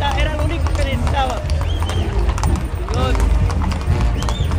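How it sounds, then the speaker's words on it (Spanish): Horses clip-clop steadily on pavement during a Mexican cavalcade, with a dense crowd chattering and shouting all around and an occasional whinny breaking through. "hay muchos caballos bien bonitos, están increíbles"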